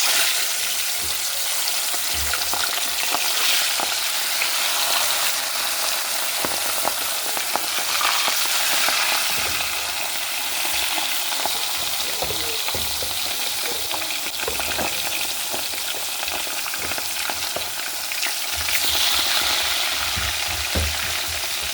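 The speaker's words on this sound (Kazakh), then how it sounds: "Қазір қуыруды көрсетеміз сіздерге" Fish frying in hot oil in a pan, with a steady, loud, continuous sizzle and crackle filling the whole stretch, with no talking.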